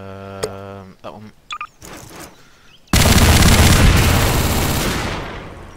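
The admin gun fires in Garry's Mod with a sustained loud, dense burst of rapid shots that begins abruptly and slowly tails off, after a few short game clicks and beeps.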